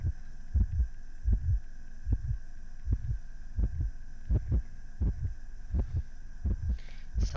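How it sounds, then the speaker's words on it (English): Heartbeat effect in the video game Shattered Lights, a loud, regular double thump repeating at a steady pace over a low hum, with no talking. "I hear the heartbeat."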